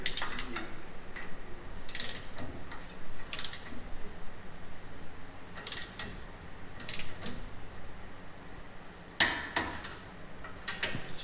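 A wrench ratchets on the lug nuts of a Tesla wheel spacer in several short bursts of clicking, with a sharp metallic clank near the end and quiet shop background between the bursts.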